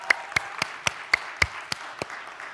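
Eight sharp hand claps from an audience at a youth summit land at a fairly even pace, close and crisp, with quiet gaps between them.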